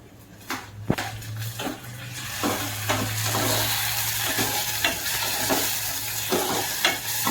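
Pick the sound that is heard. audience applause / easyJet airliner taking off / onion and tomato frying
onion and tomato frying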